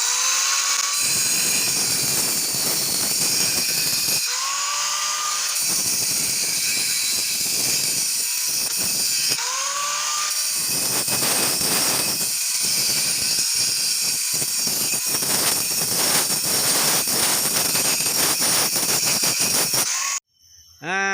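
An angle grinder shapes a round stone spice pestle, its high, hissing, whining grind running loud and close almost without pause, with brief pitch dips as the disc is lifted and pressed again.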